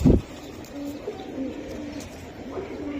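Racing Giribaz high-flyer pigeons coo softly in a few low, repeated calls, with a brief thump at the start and faint background noise.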